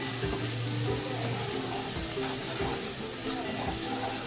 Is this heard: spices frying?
yes